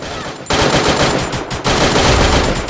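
Rapid automatic gunfire in the Free Fire battle royale game, loud and dense bursts with a brief gap near the start and a short dip mid-clip before the firing resumes.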